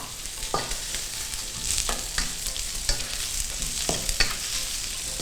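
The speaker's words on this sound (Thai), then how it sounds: "ผัดให้แครอทสุก" Carrots and cabbage stir-frying in a pan for yaki udon: a steady bright sizzle with a utensil scraping and tossing about every second, close and fairly loud, with no talking.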